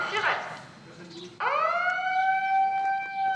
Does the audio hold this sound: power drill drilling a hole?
no